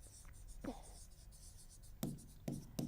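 Marker or chalk writing on a board during a vocabulary lesson, heard as a few short, close scratchy strokes spaced apart, with quieter room tone between them and no speech over them.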